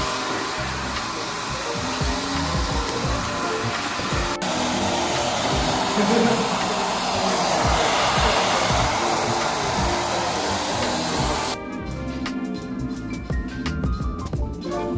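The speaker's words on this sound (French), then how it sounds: "Séchage." A hair dryer blows steadily while drying hair at a Shibuya salon, a loud, close, continuous whooshing roar with slight shifts as it moves, then easing near the end.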